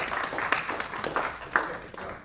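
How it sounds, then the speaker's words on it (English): An audience gives a short round of applause for a presenter at a talk, a dense patter of many hands clapping at moderate distance with a few sharper claps standing out. "Big round of applause for Bruce"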